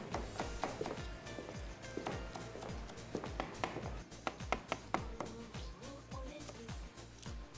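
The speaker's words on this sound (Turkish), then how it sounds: "Şöyle onu da şöyle minik minik doğruyoruz gördüğünüz gibi." Knife chops finely through a small handful of herbs for a cacık salad, rapid sharp taps on a cutting board in an irregular, close rhythm.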